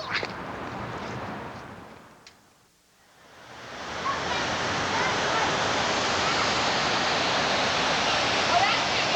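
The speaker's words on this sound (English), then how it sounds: "This is sort of a waterfall thing that I've never really seen before." Rushing water from the waterfall feature at the Wortham Center in Houston hisses as steady broadband noise, fading briefly mid-clip before swelling back loud and constant; a few faint clicks sound early on.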